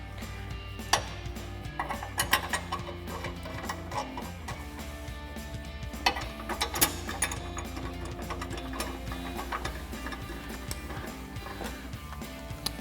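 A ratchet with a 13mm socket snugs up headlight bolts on a 2011-2016 Ford Super Duty during an LED projector headlight install, giving quiet, rapid clicking in short bursts close by.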